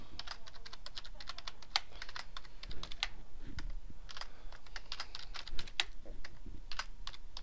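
Rapid, uneven tapping of computer keys, steady clicks with no voices, fairly quiet and close.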